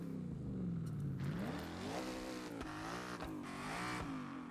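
A car engine in the racing game Forza Horizon revs up and down repeatedly, its pitch sweeping up in surges with shifts between, loud and alone without talk.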